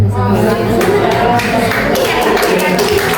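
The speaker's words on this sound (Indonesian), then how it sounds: "Terima kasih untuk kelompok kita beri tepuk tangan" An audience applauds a presenting group at a teachers' collaborative dissemination session, the steady clapping loud and filling the whole stretch, with a voice speaking over it.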